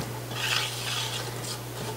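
Onions being stirred with ground black pepper in a pot, a soft scraping and sizzling stir running steadily and close for a couple of seconds over a low hum.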